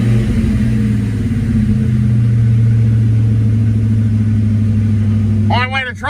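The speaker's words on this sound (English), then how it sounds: "I'll try revving it, and then if it revs, I think we're good." A 1995 Mustang Cobra engine runs loud and steady close by with a deep, even rumble for about six seconds, then a brief voice comes in at the end.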